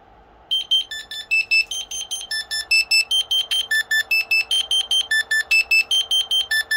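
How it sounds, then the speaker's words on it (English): Piezo speaker amplified through a 5V digital amp gives a loud alert for a Klipper M600 filament change: a steady train of sharp, rhythmic electronic beeps in a repeating two-pitch pattern over a faint background hum. "that's my alert sound I use when I need to change my filament for the M600 code"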